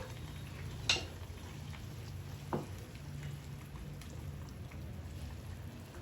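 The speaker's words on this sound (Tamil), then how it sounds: "கிரேவி இப்போ கொதிச்சிட்ருக்கு" Quiet, steady bubbling and sizzling of a thick soya chunk gravy simmering in a pan, with a couple of faint clinks.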